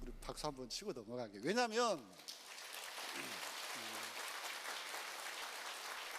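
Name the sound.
audience clapping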